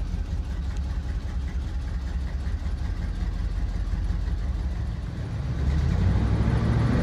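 A 1978 GMC Diplomat motorhome's engine idles steadily just after starting, a low, even rumble that grows louder and deeper near the end.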